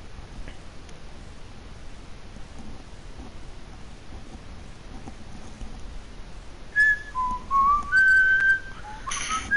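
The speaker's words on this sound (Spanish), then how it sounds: "Ah, ya venís chiflando." A person whistles a few short, bright tonal notes near the end, loud and close, standing out from a quiet background of faint clicks and rustles during a Fortnite game session.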